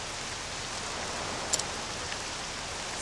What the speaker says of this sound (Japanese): 雨を避けてはいるが、